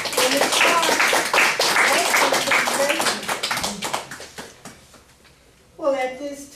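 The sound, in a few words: round of applause from the audience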